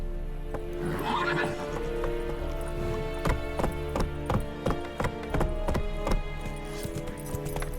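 Roach, Geralt's horse in The Witcher 3, whinnies near the start, then hooves clop in an uneven, irregular run of sharp strikes over steady game ambience and low music.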